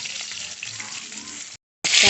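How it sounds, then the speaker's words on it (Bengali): Katla fish pieces frying in oil in a pan, a steady close sizzle with broad hiss that runs continuously, breaks off briefly into silence, then returns louder for the final moments. "মাছটা হচ্ছে ভাজা হয়ে গেছে উল্টে পাল্টে হচ্ছে লাল করে ভেজে নিয়েছি"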